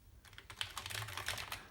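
Rapid clicking keystrokes on a Commodore Amiga 500 keyboard, a quick run of light, close taps at a quiet level with no voices.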